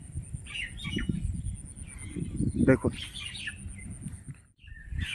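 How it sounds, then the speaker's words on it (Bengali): Birds chirp and squawk in a village field on a cloudy morning, scattered calls and one sharp burst mixed under a person talking nearby. "পাখির আওয়াজ, পাখির কলরব সকালে"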